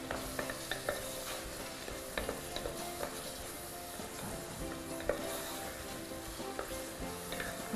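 Meat sizzles steadily in a pan for a dish of lubia with artichokes, with scraping stirring strokes and small clinks over the continuous frying hiss, close and fairly quiet, no talking.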